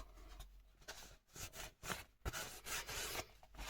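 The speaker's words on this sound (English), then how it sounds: "I'm just basically buffing it down" A cloth buffs hardened wax on a watercolour painting mounted to a panel board: close, dry rubbing strokes in an irregular back-and-forth rhythm with small knocks, and no voices.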